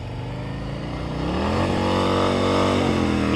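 Motorcycle engine idling and then revving higher during slow-speed riding practice, pitch climbing midway and holding as the throttle opens, close and steady with no talk.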